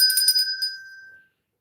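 A single bright bell struck once at the start of a livestream, ringing clear and near before its tone fades smoothly away into silence over about a second.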